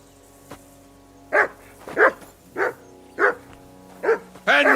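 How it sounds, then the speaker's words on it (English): A dog barks in the medieval open-world game Kingdom Come: Deliverance 2, five sharp, close barks spaced about half a second apart, with a louder burst at the end over a steady background hum. "I assume you can hear that damn dog of yours barking."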